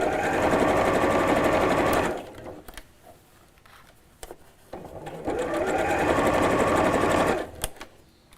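A sewing machine stitches a drawstring bag in two long runs of rapid, steady whirring, close and loud, separated by a quiet pause with light handling clicks.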